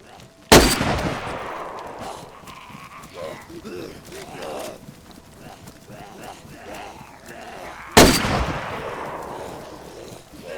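Gunfire in the survival video game DayZ cracks out as two sharp, loud shots several seconds apart, with a rough rumbling outdoor ambience and scattered noises between them.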